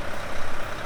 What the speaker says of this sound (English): here comes the concrete pumping truck that was up on the hill earlier